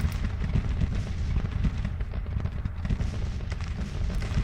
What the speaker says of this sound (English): Oh, he's got artillery over here too.